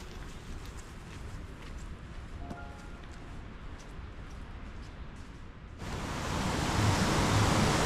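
A river swollen by recent rains rushes beside a mountain trail in Ticino, Switzerland. Its steady broadband roar continues throughout and grows noticeably louder and nearer for the last couple of seconds.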